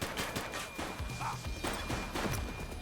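Gunfire from The Precinct police game comes in scattered bursts of shots and impacts, with thuds and a crash mixed in at moderate loudness and no talk.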